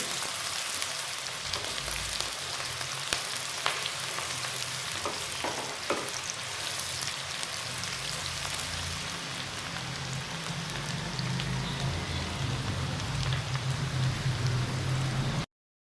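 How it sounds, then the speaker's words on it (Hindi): Two sliced medium onions fry in hot oil with a steady, dense sizzle throughout, with occasional soft stirring clinks and no voices. "ऑयल हो चुका है गरम, इसमें मैं 2 मीडियम साइज की कटी हुई प्याज ऐड करूँगी।"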